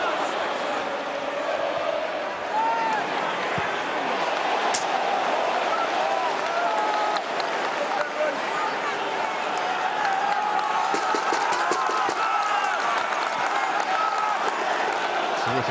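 Dense football crowd noise fills a packed stadium at a Bradford City v Aston Villa League Cup semi-final, a steady roar of cheering and clapping that holds loud and constant throughout.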